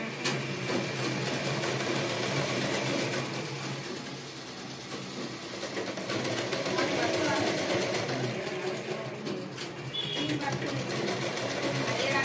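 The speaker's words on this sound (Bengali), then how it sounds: "এক চাপ ছেড়ে এভাবে তুমি সেলাই করে নিতে পারো" A sewing machine runs steadily while stitching a round churidar neckline, a continuous close, loud mechanical whir with brief dips in pace, with a voice talking over it.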